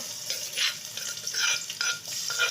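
Food sizzles and crackles in a hot pan while being stirred, with bursts of scraping and hissing rising and falling close by.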